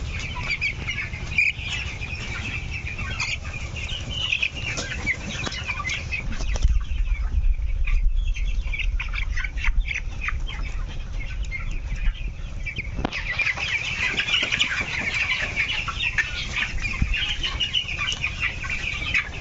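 Broiler chickens cluck and chatter continuously in a crowded poultry shed of about a thousand birds, a dense, steady clamor with occasional wing flaps and a low background rumble.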